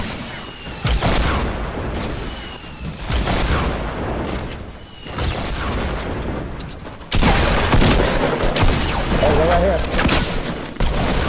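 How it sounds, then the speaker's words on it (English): Rocket launcher blasts and gunfire in a video game, loud bursts and booms through the whole stretch with a voice talking over the action. "He got me with a fucking rocket launcher."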